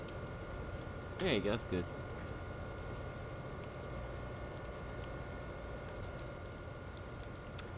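Steady rain falls on a locomotive in Train Sim World 2020 on the Northeast Corridor, giving a continuous even hiss, with someone briefly speaking over it early on.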